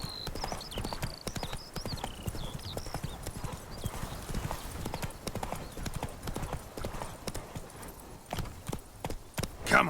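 Roach, Geralt's horse in The Witcher 3, trots steadily, with a continuous clip-clop of hooves close by and a brief whinny near the end.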